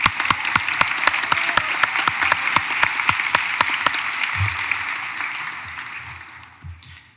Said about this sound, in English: Let's have a round of applause for Seth.